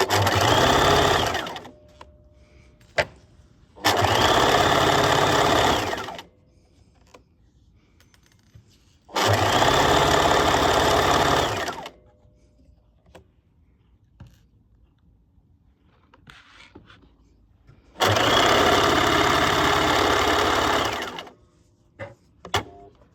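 A sewing machine stitching the thick side seams and sleeves of a hoodie runs in four loud, close bursts of a few seconds each, separated by quiet pauses with small handling clicks.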